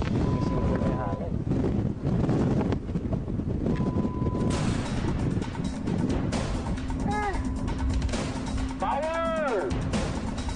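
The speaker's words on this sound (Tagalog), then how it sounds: "Sumisipot na yung hangin." Steady, heavy wind roars across the microphone aboard a sailboat, a loud continuous rush that never lets up, with voices and a few brief whistling calls carried on top of it.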